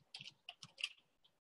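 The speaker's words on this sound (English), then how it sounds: "I'm typing my email into the chat box." Quiet computer-keyboard typing as an email address is entered into a chat box, with a quick run of about half a dozen soft clicking keystrokes close by and a short pause before a final tap.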